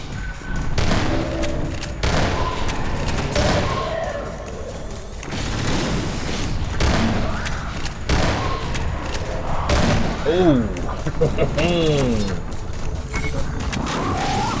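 Video game gunfire comes in repeated bursts of rapid shots, punctuated by thumps, under ongoing talk from players.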